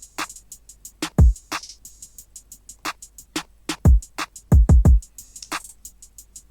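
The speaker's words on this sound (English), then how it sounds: "The kick itself sounds like this." A programmed beat with hi-hats ticking steadily while a deep booming kick drum lands in short bursts, loud and punchy up front.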